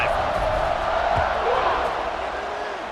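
A stadium crowd cheering in a college football video game, a broad roaring swell of many voices that rises slightly and then eases, with a commentator talking over it.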